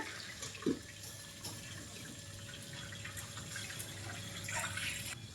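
Water runs steadily into a steel cooking bowl, a soft continuous splashing flow with a small knock near the start and a slight swell toward the end.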